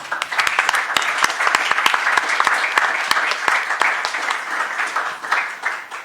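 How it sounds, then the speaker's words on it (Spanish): An audience at a law faculty conference breaks into loud, dense applause that holds steady for about six seconds, with a few sharper individual claps standing out. "Les pido un fuerte aplauso."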